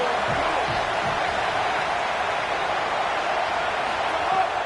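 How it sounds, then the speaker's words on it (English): Steady, dense stadium crowd roar from an NCAA 27 college football video game, a continuous wash of noise holding at an even level throughout. "This crowd going to try to make life miserable for these guys."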